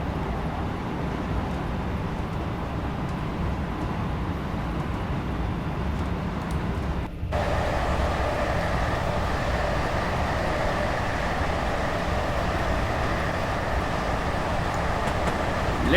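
An electric train in London Midland livery runs in Train Simulator 2019 on the London Euston to Tring route, a steady loud rumble and hum of motors and wheels that holds throughout with a brief dip midway.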